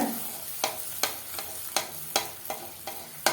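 Wheat snack batter fries in hot oil in a large frying pan. A steady close sizzle runs under sharp, regular taps and scrapes spaced about half a second apart.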